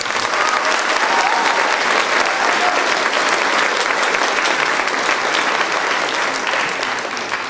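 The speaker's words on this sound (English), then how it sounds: "Give them another round of applause for them" A concert hall audience gives a band a thick, sustained round of applause at a spring pops concert. The clapping is steady and loud for the whole stretch and tapers only slightly at the end.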